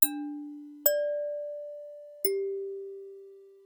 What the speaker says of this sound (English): That's how the bell I choose sounds.